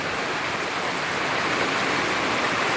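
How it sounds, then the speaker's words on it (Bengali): A downpour pounds a tin roof in a constant, thick hiss of countless drops, unbroken and close throughout. "টিনের চালে বৃষ্টির শব্দটা কিন্তু আসলে অন্যরকম একটা ফিলিংস"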